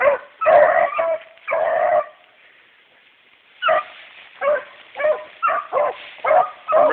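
Hunting dogs bark and yip in bursts while chasing rabbits near a creek crossing, a run of loud barks followed by a pause and then a faster string of yelps.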